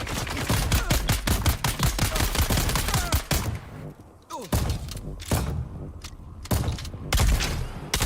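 Rapid bursts of gunfire in the combat game Dune: Awakening, loud dense volleys of shots with heavy thumps, a short lull, then further sharp shots.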